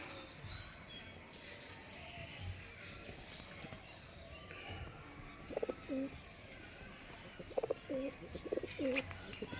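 Faint background hum with soft pigeon coos appearing in short bursts toward the end, distant and quiet amid a busy ambient room.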